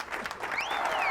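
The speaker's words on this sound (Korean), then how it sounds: "연주가 모두 끝난 후 사람들은 일어서서 환호와 박수를 보냈어요." Standing audience cheering and applauding at the close of a Beethoven concert he conducted, with a steady wash of clapping and a whistle-like rising and falling cry over the top, loud and continuous throughout.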